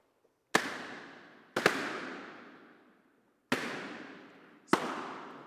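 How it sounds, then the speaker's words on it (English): Four gunshot sound effects crack out one at a time at uneven intervals, each a sharp loud blast followed by a long echoing decay, with no talking. "Gunshots."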